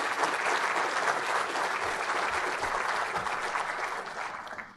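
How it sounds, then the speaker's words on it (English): A room of people giving a round of applause for presenters at a roadway design training session, dense steady clapping that slowly tapers off toward the end, with no talk over it. "Let's get a quick round of applause for the presenters today."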